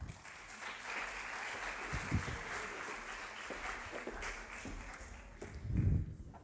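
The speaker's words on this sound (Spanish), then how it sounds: "Así que, Ana Pérez Escoda, yo creo que se le puede dar un fuerte aplauso" A conference audience on educational podcasting in higher education gives fairly soft, distant applause that holds steady with a few sharper claps and a low bump of noise near the end.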